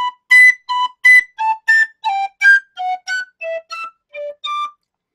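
Irish tin whistle playing a series of clean, separate notes, about a dozen short tones in steady rhythm, gradually stepping downward in pitch, loud and close with no talking.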